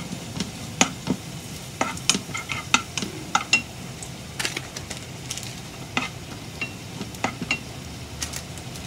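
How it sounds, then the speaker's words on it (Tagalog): Food is sautéed in a pan: a soft, continuous sizzle broken by frequent spatula scrapes and light metallic clinks at an irregular pace, heard close with no talking. "Nakikita nyo na kung paano ko siya ginigisa."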